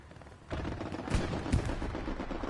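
A strafing run sprays gunfire across the ground in the World War II shooter Hell Let Loose, arriving as a dense, rattling burst of rapid shots that starts abruptly and keeps hammering, with sharper cracks standing out.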